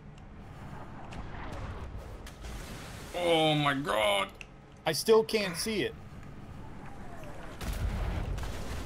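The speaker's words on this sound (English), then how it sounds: "Oh my god, it's firing. Man the cannons." Heavy ship cannon fire booms in two bursts in the video game Atlas, with creaking, rattling mechanisms, while an excited voice talks over the action.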